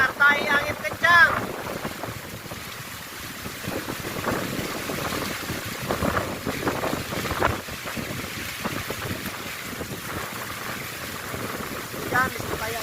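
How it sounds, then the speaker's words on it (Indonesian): Rain driven by strong, gusting wind at the Jatiluhur reservoir in Purwakarta, West Java: a steady broadband roar with buffeting wind on the microphone and water noise, continuous and fairly loud throughout, without clear speech. "Hujan disertai angin kencang."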